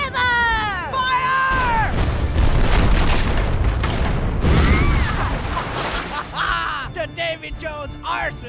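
Cannon fire from a cartoon pirate ship: loud booming blasts across the middle of the clip, set among cartoon voices and shouting before and after.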